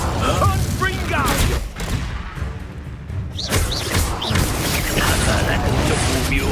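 The Confringo explosive spell fires in Hogwarts Legacy combat, giving repeated booming blasts and crashing impacts over a dense, loud bed of game noise, with brief voices in the mix.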